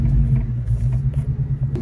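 A 1994–2004 Ford Mustang fitted with budget Maxpeeding coilovers drives on a road, heard from inside as a continuous, close, low engine and road rumble.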